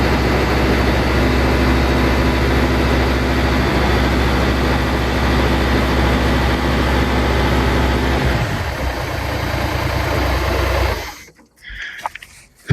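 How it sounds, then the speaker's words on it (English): A tractor PTO running a wood chipper gives a loud, steady low drone close by for about eleven seconds, then cuts off abruptly into near quiet with a few faint knocks. "I'm gonna start up the PTO and see if it'll run for me"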